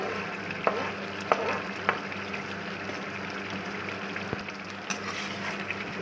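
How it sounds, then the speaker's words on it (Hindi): Green chilies frying in hot oil in a karahi, giving a quiet, steady sizzle with a few sharp utensil clinks and stirring scrapes scattered throughout, no voices. "इसको अच्छी तरह से मिक्स करेंगे और इसकी अच्छी तरह से भुनाई करेंगे"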